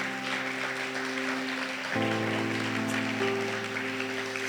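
A church congregation applauds in a steady wash of clapping that holds for several seconds, while a sustained organ-like musical tone changes pitch midway and keeps playing underneath the applause.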